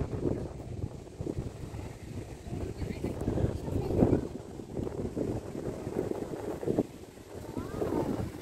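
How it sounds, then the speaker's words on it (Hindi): Gusty outdoor wind buffets the microphone in a steady low roar near a university sports center on a fine day, swelling and easing without pause, with faint voices beneath it. "इतना हवा चल रहा है कि जीबू गोल गोल घूम रही है"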